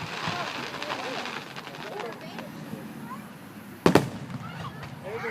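Fireworks burst and crackle at an outdoor 2015 show in Victoria, Texas, with one sharp, loud bang near the end; people talk and exclaim throughout.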